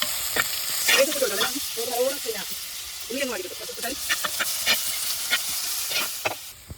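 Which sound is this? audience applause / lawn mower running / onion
onion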